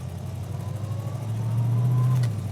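A car engine idling slightly fast, a low steady hum that swells a little louder toward the end, close by and with no speech.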